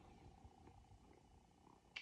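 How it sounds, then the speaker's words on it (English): A pet cat named David purrs softly and steadily up close, a faint low rumble in a quiet room, ending with a brief louder rustle. "He's literally my comfort cat."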